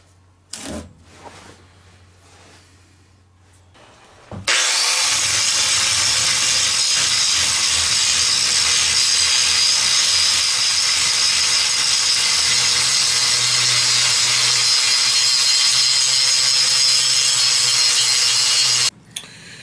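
A damascus steel billet for a ladder-pattern blade is cut into three equal pieces on a power saw, a loud steady grinding rasp running continuously for about fifteen seconds after a brief quiet start, then stopping abruptly.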